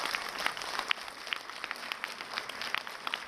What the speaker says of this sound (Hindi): जोरदार तालियां तो होनी चाहिए सबके लिए